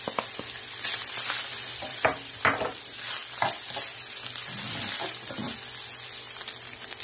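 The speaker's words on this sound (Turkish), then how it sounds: "Kuru soğanımı ilave ediyorum." Chopped dry onion frying in a pan with meat browning in its own fat, a continuous sizzle punctuated by irregular stirring scrapes and clatters.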